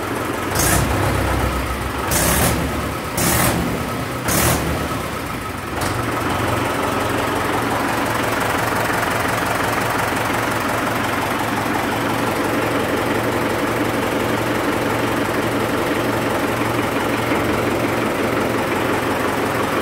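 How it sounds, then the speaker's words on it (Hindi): A 2018 Mahindra 415 DI tractor diesel engine runs loud and close with a steady chugging idle, a few sharp bursts of revving early on, then an even drone throughout. "ये ट्रैक्टर महिंद्रा 415 तेरह सौ अड़तीस घंटे चला हुआ है"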